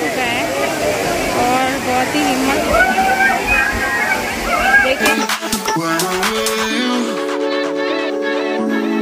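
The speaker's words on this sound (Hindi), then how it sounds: "वाटरफॉल के नीचे गए थे एकदम सर फट गया इतना तेज़ पानी का प्रेशर है" The Tiger Fall waterfall near Chakrata pours with a strong, heavy flow, a loud steady roar for about five seconds before voices and tonal sounds take over above the rushing water.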